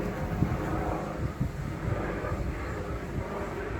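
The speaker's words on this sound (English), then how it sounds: "it's a helicopter." Helicopter drone rumbling steadily overhead with a low, pulsing throb, mixed with wind noise.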